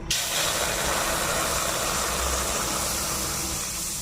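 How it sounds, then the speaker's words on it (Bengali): Milk poured into a hot kadai for making kheer, giving a sudden loud hiss that starts sharply and then settles into a steady, broad sizzling rush, close and continuous with no talk. "গরম হয়ে গেছে, আমি এখন কড়াইতে দুধ দিয়ে দেব।"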